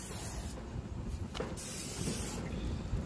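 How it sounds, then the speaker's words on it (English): A steady aerosol grill spray hisses in bursts onto a hot grill over a loud background roar, with short pauses between sprays. "So you just want to spray it with your grill spray."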